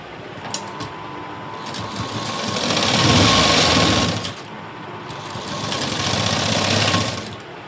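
Sewing machine stitching a seam on a garment during fitting: a fast, buzzing mechanical whir that runs in two bursts, each swelling and easing off, close and fairly loud, with no talk.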